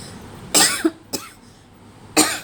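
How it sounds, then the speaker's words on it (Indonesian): Three sharp coughs come close up, the first two in quick succession and the third after a pause, with no talking. "Maaf, batuk."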